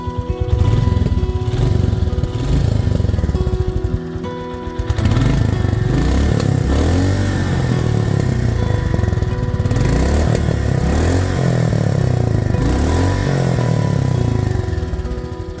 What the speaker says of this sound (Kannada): ಇದು ಈ ಗಾಡಿದು ಎಕ್ಸಾಸ್ಟ್ ನೋಟು